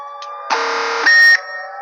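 Siren Head's siren blares in a horror video game, a loud harsh buzzing tone lasting about a second before a higher steady electronic tone takes over, then cuts off abruptly.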